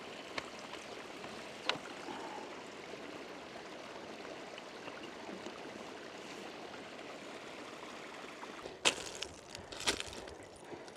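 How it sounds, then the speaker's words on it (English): Running water of a mountain stream in the Zanskar range of Ladakh makes a faint, steady broadband rush, with a few brief knocks and splashes near the end. "The sweet sound of running water."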